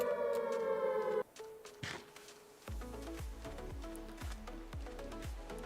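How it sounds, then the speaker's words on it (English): Alarm sirens sound in the video game Minecraft with the Hamcraft mod: a steady tonal wail cuts off after a second, then a rapid pulsing series of low warbling siren blasts follows, moderately loud with no talking. "constantly scared by the sounds of these sirens that you can set off whenever"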